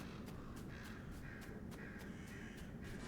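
Crows caw repeatedly in the game Pacific Drive, a run of short harsh calls at steady intervals over a constant low rumble of wind and ambient noise.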